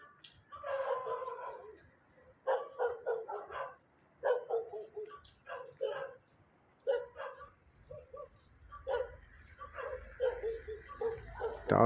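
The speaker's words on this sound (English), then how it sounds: "Dogs just running around." Dogs running around outdoors bark repeatedly in short, sharp bursts with brief gaps between them, moderately loud and somewhat distant, over roughly twelve seconds.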